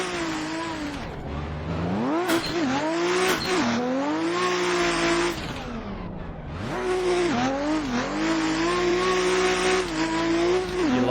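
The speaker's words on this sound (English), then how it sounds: "let's try a second gear takeoff and see how we go" BMW E30 pulling away in second gear, its engine revving hard and loud with rising and falling pitch, a brief drop in the middle and then another strong climb, close by and with no talk.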